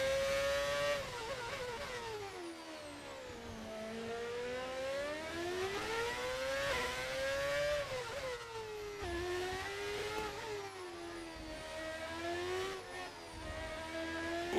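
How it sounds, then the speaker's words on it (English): A modded race car engine in a racing video game whines through continuous gear changes, its pitch climbing and dropping repeatedly as the car accelerates and brakes, steady and prominent with no talk. "Is the car sound a mod? Yes."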